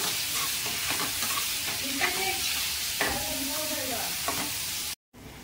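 Onions frying in a pan for a spicy chicken dish, giving a steady close sizzle with scraping stirring strokes throughout, cutting out briefly near the end.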